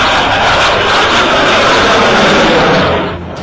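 Indian Air Force fighter jets fly overhead near Delhi, producing a loud, continuous, broadband roar that holds steady for several seconds, then eases off slightly at the end.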